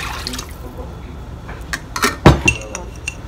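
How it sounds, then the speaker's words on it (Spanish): Cups of water poured into a cooking pot of sautéed golden onions while making spicy shrimp a la diabla, a splashy burst of liquid with clinks near the end, fairly close and brief over low kitchen background. "4 tazas de agua"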